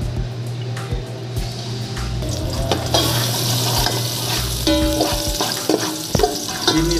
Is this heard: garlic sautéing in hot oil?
yes